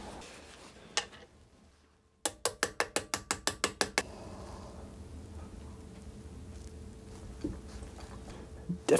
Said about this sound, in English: Let's get that cylinder head off.